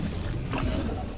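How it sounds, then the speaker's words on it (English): A creature roars in a video game, a loud, low, rumbling growl that swells through the middle of the short moment over dense game noise, with no talk. "I heard a roar and I don't like it."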